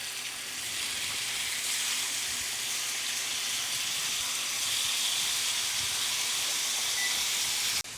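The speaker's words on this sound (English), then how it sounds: "frying up all the bacon" Steady, dense sizzling and crackling of bacon frying in a pan, a continuous hiss with no talking, cutting off abruptly at the end.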